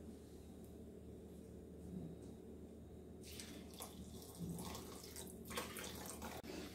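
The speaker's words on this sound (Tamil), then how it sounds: "ஒரு கப் வாட்டர் போட்டுக்கலாம்." Water poured from a cup into a bowl of rolled oats, a soft steady splashing pour that swells in the second half over a low background hum.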